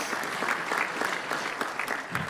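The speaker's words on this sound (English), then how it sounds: "Round of applause." Steady applause from a crowd at a flight simulation expo presentation, dense clapping that carries evenly for a couple of seconds at moderate loudness.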